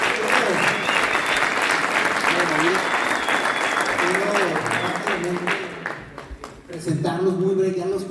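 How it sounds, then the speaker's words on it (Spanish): An audience in a church breaks into sustained, dense applause that fills the room, fading slightly near the end as a voice begins speaking. "¿Por qué damos un fuerte aplauso a nuestros amigos?"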